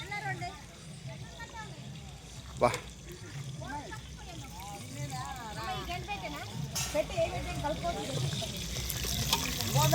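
Food fries in a pan outdoors in a mango orchard, a soft sizzle underneath a lot of nearby chatter from several people talking over it.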